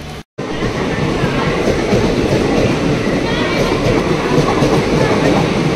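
A Virar-line local train at a station platform, a continuous loud rolling rumble with rail clatter that carries steadily across the whole stretch after a brief dropout at the start.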